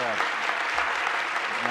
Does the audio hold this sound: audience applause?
yes